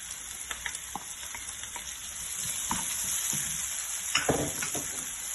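Halved red and yellow bell peppers hiss and sizzle in a hot frying pan, a steady bright crackle with scattered pops and a louder burst of spitting near the end, no voices.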